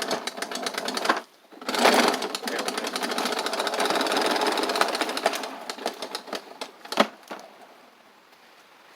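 A 50-foot retractable power cord reel clicks rapidly and continuously as it winds in, then slows to a few scattered final clicks; a voice briefly speaks.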